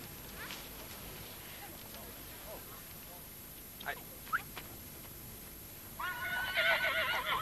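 A panicked horse near a truck whinnies in a short burst near the end, over a steady outdoor background. Faint scattered sounds come before the whinny.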